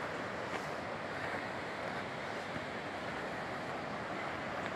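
Water pouring down at the Río Mundo springs near Riópar, a steady, even broadband rush that holds without pause throughout, with a faint wind-like hiss over it and no voices.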